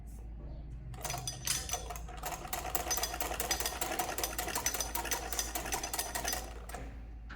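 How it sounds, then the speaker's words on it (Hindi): Sewing machine stitching a frill strip onto a sleeve, its needle running in a fast, steady rattle for several seconds after a quieter start, close and loud over a low hum. "ये लास्ट का जो हमारा ये हमने फ्रिल का पट्टी लगाई है ना, उसकी सिलाई कर रहे हैं"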